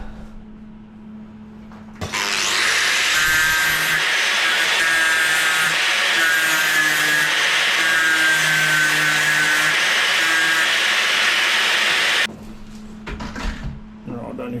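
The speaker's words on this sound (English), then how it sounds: "Let's grind that back a little bit to start with." An angle grinder works back the welded corners of a metal frame, a loud, sustained abrasive whine that starts abruptly, runs steadily for about ten seconds and then cuts off, with quieter shop noise before and after.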